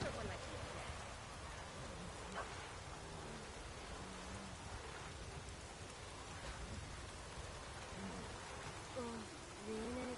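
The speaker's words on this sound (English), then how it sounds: "Oh, raining again." Steady rain falls in the Witcher 3 world, a soft continuous hiss of drops on surfaces with faint low rumbles, quiet throughout, with brief character voices in the mix.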